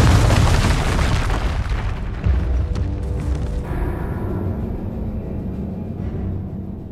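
Confringo blasting spell in the Hogwarts Legacy video game bursts into a loud, close boom, with heavy low rumble and debris crackle that decays into a lingering, fading roar.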